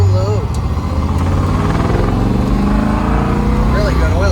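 Original 302 small-block V8 in a 1969 Chevrolet Camaro Z/28 idling steadily and loudly up close, a continuous low rumble with voices talking over it.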